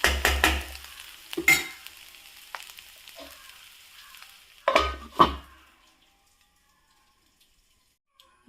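Oil crackles and sizzles in a pan as clams fry, with bursts of stirring and scraping, then the frying settles into a faint hiss before falling nearly silent.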